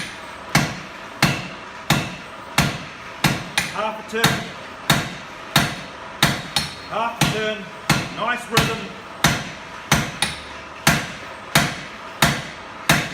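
A blacksmith hammers hot steel to draw it out, landing sharp, ringing blows in a regular rhythm about every half second, loud and close, while someone talks between strikes.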